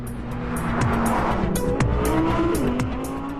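A 550-horsepower sports car launching hard with launch control, engine revving loud and close with rising gear pulls and tire squeal, a short, intense burst of acceleration.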